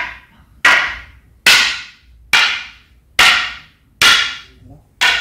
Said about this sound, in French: Le plat de la lame sur le plat de la lame.